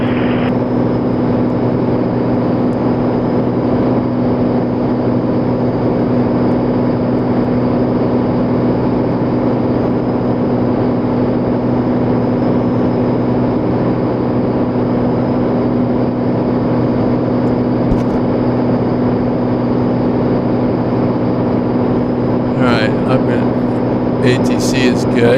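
Aircraft engine drone in a flight simulator game during a flight from San Luis Obispo to Santa Monica, a steady loud hum holding unchanged throughout with faint clicks near the end.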